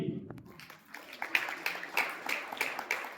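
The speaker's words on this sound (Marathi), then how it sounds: "जोरदार टाळ्या झाल्या पाहिजे या सर्व स्टुडंटसाठी." Applause for students at a martial arts belt-grading award ceremony, scattered hand claps from a crowd in a hall, starting thin and building into a steady rhythm.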